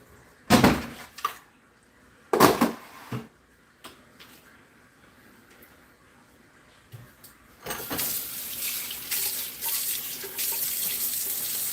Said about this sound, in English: I'm trying to get my noodles drained though, real quick.